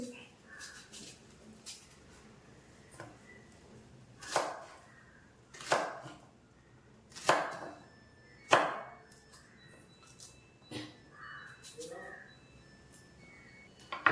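A knife slices raw plantain lengthwise on a board, about half a dozen sharp, fairly faint chopping strokes at irregular intervals.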